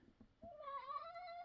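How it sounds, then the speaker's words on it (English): A pet cat gives a single drawn-out meow in the background of a quiet room, faint and distant, rising and then trailing off after a few soft taps. "I don't know if you could hear my cat meowing in the background."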